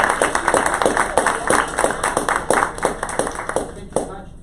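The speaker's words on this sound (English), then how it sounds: "So give us a good kind of applause for this." Audience applause at a marketing career talk, a steady burst of clapping from a modest crowd for about four seconds before it trails off.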